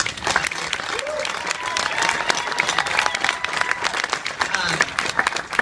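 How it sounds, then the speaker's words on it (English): Sustained applause from a crowd at a WaterWorld annual pass event, steady and fairly loud throughout, with a few voices calling out faintly among the clapping. "just a big round of applause for the team today"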